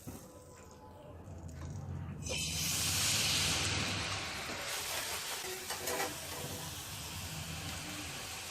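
Eggless rose cookie batter on a mould is dipped into hot oil over a medium flame, and a sudden loud crackling sizzle erupts and then settles into steady frying bubbles, close by with no talk.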